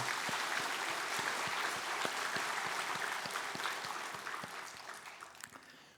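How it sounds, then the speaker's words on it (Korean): A church congregation applauds its school teachers and pastors on Teachers' Sunday, a steady wash of clapping from many hands with sharper individual claps standing out, gradually thinning toward the end. "한번 우리 그분들에게 감사의 박수를 같이 드리겠습니다."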